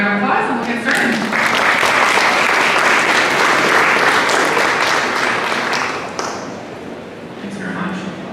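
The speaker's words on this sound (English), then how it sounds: "So if we can give a round of applause and we'll get started." An audience at a talk on building codes for tiny homes gives a full round of applause, dense steady clapping that swells and holds for several seconds, then thins out as a speaker starts talking.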